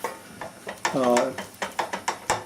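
A spoon stirs risotto alla Milanese in broth in a pan, making rhythmic wet scraping strokes at a steady pace, close up, with a brief voice sounding in the middle.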